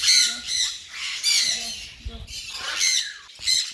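African grey parrot chicks give repeated loud, harsh squawks in bursts close by, being moved into a big cage, with a person's voice briefly in between.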